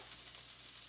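Chicken stock and lemon juice hitting a hot pan of onions to deglaze, a brief, steady, fizzing sizzle heard close and alone.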